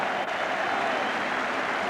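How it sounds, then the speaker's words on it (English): A large football crowd at White Hart Lane applauding at the end of a Spurs match against Manchester United, a dense, steady wash of clapping and cheering heard from within the stands. "the appreciation of the crowd showing clearly that they have enjoyed the afternoon"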